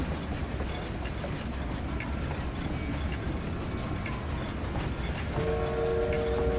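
A train runs in the Haunted Chapter 3 video game with a steady, dense rumble and mechanical rattling throughout. A thin high squeal or whine rises near the end, and no one speaks.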